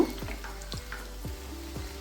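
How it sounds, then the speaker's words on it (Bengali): Rasabora pitha (রসবড়া) frying gently in oil over a low flame, a soft steady sizzle with a few faint stirring clicks, close and alone without voices. "লো ফ্লেমেই আমি এগুলোকে ভেজে নিচ্ছি"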